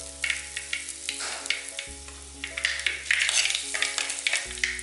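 Mustard seeds, fenugreek and asafoetida crackling and spluttering in hot oil for a bilimbi pickle, a continuous close-up sizzle with scattered pops and utensil stirring over a steady low hum.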